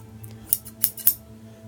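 Regular basic scissors snipping, three crisp metallic cuts spaced about a quarter second apart, close and clear over a quiet room with a low steady hum.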